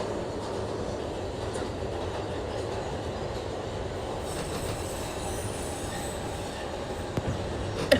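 An R142A subway train in the OpenBVE train simulator runs steadily with a continuous rumbling roar of wheels on track, faint squealing and occasional clicks, near and constant, with no talk.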